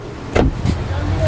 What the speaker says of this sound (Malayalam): ആ വണ്ടി എടുക്ക. ഒരു വണ്ടി മതിയറാ.